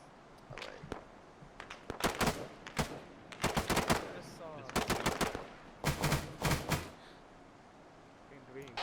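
Bursts of automatic gunfire in a military sim battle in Arma 3, several sharp rapid volleys in clusters spread across the stretch, some near and some farther off, with quieter single shots between.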